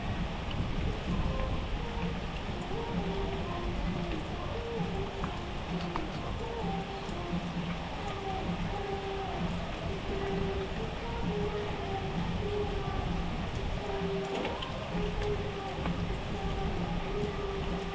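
Steady heavy rainfall pours down on an outdoor farm plot beside a hut, a dense continuous hiss with low rumbling underneath, constant and close throughout.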